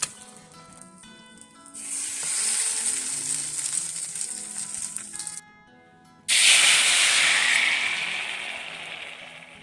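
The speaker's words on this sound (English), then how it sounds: "I have my cast iron pan hot with some butter in there. We're going to get these cooked up." Sourdough French toast fries in butter in a hot cast iron pan: a loud, close sizzling hiss swells, drops out briefly, then surges back stronger. No one speaks.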